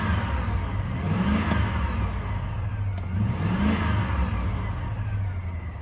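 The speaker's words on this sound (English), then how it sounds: "We'll give her a couple revs," A 2005 Chevy Silverado K2500's 8.1L V8 with 146K miles is revved twice, each blip rising from a steady low idle rumble and settling back, heard close and loud with no talking.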